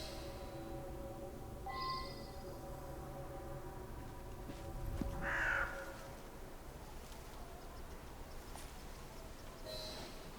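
Crow caws in the video game Assassin's Creed Syndicate, a couple of harsh calls over a steady game ambience with faint hoofbeats, one louder caw near the middle.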